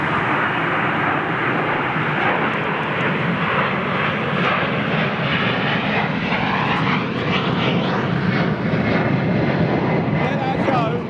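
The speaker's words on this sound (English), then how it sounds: "Let that go, because I've got the Dreamliner going out." A Boeing 787 Dreamliner takes off from Heathrow bound for Perth, its engines giving a loud, continuous roar that holds steady throughout with a broad rushing texture.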